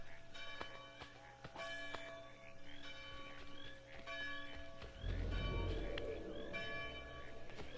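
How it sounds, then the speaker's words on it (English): A church bell rings repeatedly inside the Assassin's Creed III video game, steady tolls layered over game ambience with hoof-like clops and some movement noise, fairly loud throughout. "Very incredibly annoying that we have to sit and listen to this bell now."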